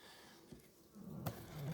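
A low, faint buzz of honeybees hums close by at a hive, rising slightly toward the end with a soft knock midway.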